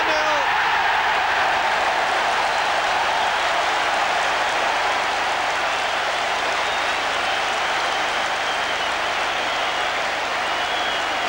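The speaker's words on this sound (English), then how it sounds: "Applause from the Stretford end as McClair made no mistake from the spot." A large stadium crowd at the Stretford End applauds a penalty goal in a Manchester United versus Spurs football match, a dense, continuous roar of clapping and cheering that holds steady throughout.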